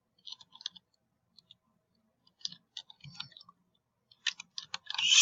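Keys clicking on a computer keyboard in short, irregular bursts, quiet and close, with brief pauses between clusters and a denser patter at the end.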